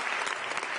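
Applause rising from guests in a Senate chamber, a dense, steady wash of many hands clapping at once, close and even throughout a brief burst with no voices.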